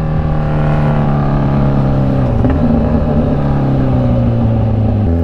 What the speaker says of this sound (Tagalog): Hanggang ngayon, iba pa rin tunog ng tambucho ko.